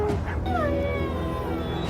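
A dog in the animated show Invincible whimpers and then lets out a rising, wavering howl, close and fairly loud over background sound.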